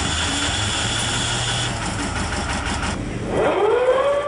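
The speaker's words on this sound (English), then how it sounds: "The coxswain then straps himself in and starts the engine." The engine of an enclosed lifeboat starts up with a rising whine that sweeps upward in pitch over a steady mechanical drone, heard from inside the boat.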